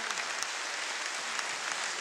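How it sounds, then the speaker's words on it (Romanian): A concert audience at a solo show applauds with a dense, even wash of clapping that holds steady throughout and has no voices over it. "mulțumesc pentru aplauze care îi sunt adresate"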